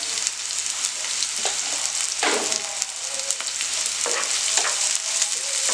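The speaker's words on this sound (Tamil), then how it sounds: "இது நல்லா வதங்கட்டும்." Kale sautéing in a pan with onion, curry leaves and salt, a loud, steady close sizzle with occasional scraping stirs, no talking.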